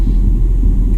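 A 2019 Jeep Cherokee Trailhawk crawling off-road at about 0.6 mph in 4Low select-speed mode: a loud, close, steady low engine rumble.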